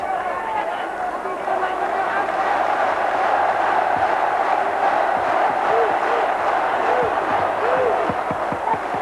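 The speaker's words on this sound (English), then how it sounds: "the chanting of the crowd now to see this championship out inside the last minute" Crowd at a boxing championship bout between Sot Chitalada and Gabriel Bernal, a dense, steady roar of chanting and cheering filling the arena in the final minute, with a commentator talking over it throughout.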